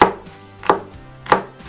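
A knife dices a bell pepper on a board, with three crisp, evenly spaced chops about two-thirds of a second apart and near silence between strokes.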